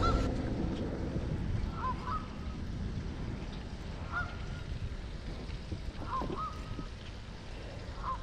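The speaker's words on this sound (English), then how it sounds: "the geese are not fucking happy" Several geese honk in short bursts, moderately distant, over a constant low rumble of wind or water.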